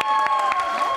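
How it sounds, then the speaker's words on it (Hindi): Applause and cheering from a crowd at a college quiz show, lively clapping with a few voices calling out, brief and fairly loud. "सुमन कुमावत के लिए जोरदार तालियां बजाइए"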